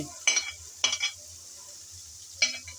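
Teasel gourd seeds, boiled potato, chopped shrimp and chillies being stirred in a frying pan, with three separate scraping strokes of a spatula over a low, steady background hum.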